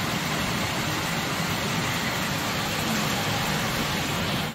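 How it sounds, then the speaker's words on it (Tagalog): Heavy rain falling at a house near the foot of a mountain, a dense, even roar that stays loud and unbroken throughout, with no voices. "Grabe yung ulan."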